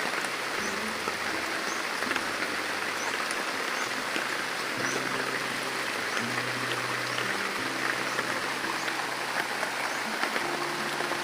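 Steady outdoor rain on open farmland, a dense even hiss holding at a constant level from start to finish with no talk.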